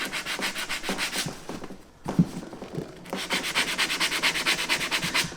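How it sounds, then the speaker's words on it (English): Fine grit sandpaper rubs along the midsole edge of a leather Lucchese 2000 Roper boot in steady, rhythmic back-and-forth strokes, close and crisp, with a brief pause midway before the scraping resumes. "what I'd like to use is a really fine grit sandpaper, and what we're going to do is even that out"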